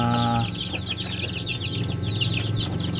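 Several chickens, including week-old chicks, cluck and peep close by, a busy overlapping chatter, with a low hum and a brief tone at the start.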